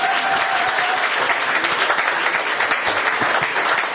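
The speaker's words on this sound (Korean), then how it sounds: "박수 좀 쳐주십시오." Loud, sustained applause from an audience at a party national committee meeting in a hall, many hands clapping densely and evenly throughout.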